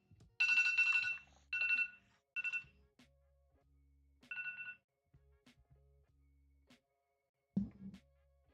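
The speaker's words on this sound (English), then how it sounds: "My phone with the alarm." A phone alarm ringing in short repeated electronic bursts, three quick rings then another after a pause, fairly near and clear in an otherwise quiet room, with a small knock near the end.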